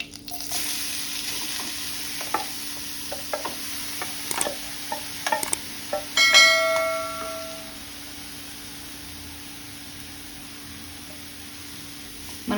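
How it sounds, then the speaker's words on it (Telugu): Grated carrots, half a kilo, frying in ghee with no oil for carrot halwa, a steady sizzle with scattered clinks of stirring, louder stirring around the middle, then a quieter continuous hiss to the end. "మనం నెయ్యిలో ఫ్రై చేసుకోవాలి. నేను ఇందులో ఆయిల్ మాత్రం ఏం వేయలేదండి, నెయ్యి మాత్రమే వేసాను."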